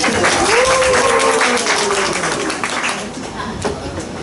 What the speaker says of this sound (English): Please join me in a round of applause for Charlie.